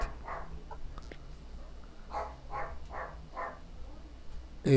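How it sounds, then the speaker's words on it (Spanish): A dog that fears fireworks barks in the background, a run of several muffled barks in a steady rhythm, distant and moderately quiet in a still room, ending in a loud close thump. "Si sienten al fondo un perro es porque le tiene un miedo pavoroso a la pólvora"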